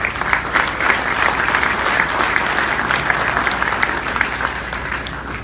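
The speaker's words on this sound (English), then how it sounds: "Please give them a large applause" A large audience at a recognition ceremony gives loud, sustained applause, a dense, continuous roll of many hands clapping that fades slightly toward the end.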